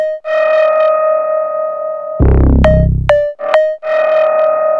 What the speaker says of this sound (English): Let's drive the reverb signal a little bit.